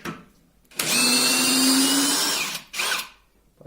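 DeWalt power drill boring into wood at high torque, a loud close whine that runs steadily for nearly two seconds, stops, then bursts briefly again as the motor strains near its torque limit.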